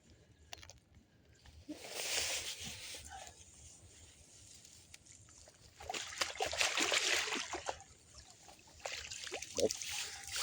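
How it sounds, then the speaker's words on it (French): A fish released back into water by hand, with two bursts of splashing and dribbling water close by, separated by quieter trickles. "on fait une petite remise à l'eau"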